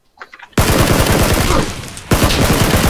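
Dense, loud automatic gunfire from the battle-royale shooter PUBG during a squad fight, rapid bursts filling nearly the whole clip after a brief quiet start, with a short dip in intensity before firing resumes.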